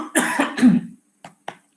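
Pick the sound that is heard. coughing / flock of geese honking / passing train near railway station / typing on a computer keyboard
coughing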